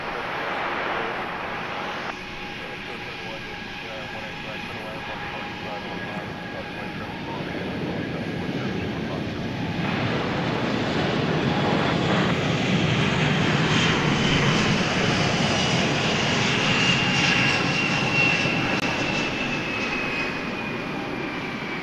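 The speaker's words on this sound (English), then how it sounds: "Now there are 2 planes lined up to take off after this 747 lands" A Boeing 747 landing at DFW Airport at night, its engines roaring steadily and growing louder as it passes close by, with a faint voice briefly audible in the background.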